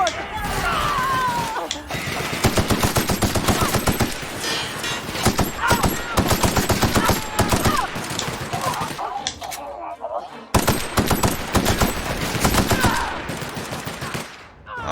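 Rapid bursts of gunfire in The Outer Worlds video game, loud and dense volleys of automatic shots continuing almost without a break, briefly stopping before resuming, with a voice talking over the shooting.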